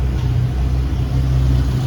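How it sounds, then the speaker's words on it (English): A 1930 DeSoto rumble seat roadster engine revs loudly with its exhaust cutout pulled open, giving a steady, deep, throaty roar close by with no voices. "rev it up now. You can hear the change. It's a little bit louder"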